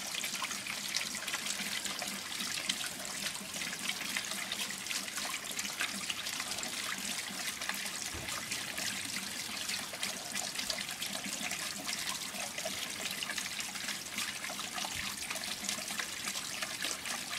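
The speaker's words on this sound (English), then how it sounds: "Most of the water appears to be going into the bath with the lower shub, not losing too much down the sides." Water pouring through a radial flow filter into a bath, a steady close rushing and splashing flow that stays constant throughout with no talking.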